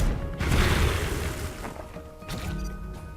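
Mortar fire in the video game Into the Breach: a loud booming crash with a rumbling tail, then a second sharper impact a moment later, with no voices.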